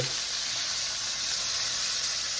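Steady, close sizzling of Cornish hen frying in a pan just after being flipped, a bright continuous crackling hiss with no voices.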